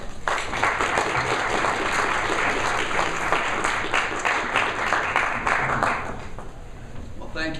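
An audience applauds to welcome speakers at a law school lecture, with steady, dense clapping filling the room for several seconds before fading slightly at the end.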